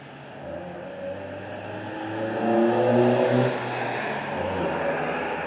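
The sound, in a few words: pickup truck driving away from construction site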